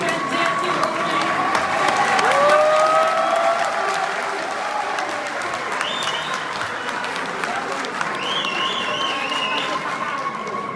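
A conference audience applauds at length, sustained dense clapping from a crowd with voices talking and calling out over it throughout.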